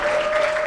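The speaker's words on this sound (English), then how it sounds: "Let's clap it up for these two." A brief burst of audience clapping at a comedy roast battle, steady and dense, heard alone with no voices over it.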